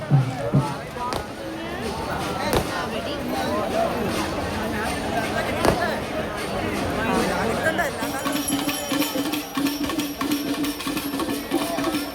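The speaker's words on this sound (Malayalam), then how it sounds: "നമ്മളുടെ ചൈനീസ് പടക്കമൊക്കെ അവിടെ പൊട്ടണുണ്ട്" Chinese firecrackers bursting at a crowded temple festival in Kerala, sharp cracks popping at intervals amid the hubbub and chatter of a busy crowd, with people talking nearby.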